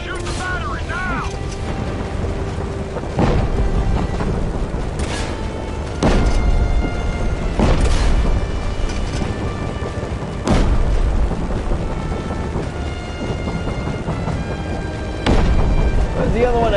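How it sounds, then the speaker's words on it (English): Surface-to-air missile explosions in Just Cause 3 boom out in heavy, separate blasts every few seconds over a constant rumbling backdrop, with a voice talking in between. "Surface to air missiles! Shoot the battery now!"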